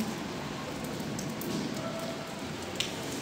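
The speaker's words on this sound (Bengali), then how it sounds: "আর এদিকে দেখো কি বৃষ্টি পড়ছে।" Rain falling outdoors heard as a faint, even hiss of drops on surfaces, steady for a few seconds with an occasional light tap.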